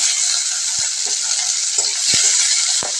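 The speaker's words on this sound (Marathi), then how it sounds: "मी 1 टोमॅटो बारीक चिरून घेतलेला आहे, तोही आपण त्या तेलामध्ये चांगला परतून घेऊया" Finely chopped tomato frying in hot oil, a loud close steady sizzle with several soft scraping knocks from a spatula stirring it.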